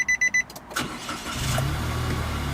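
A 2015 Nissan Note Tekna automatic starts up: three quick electronic chimes, then the starter catches and the engine settles into a steady, close idle, with no voices.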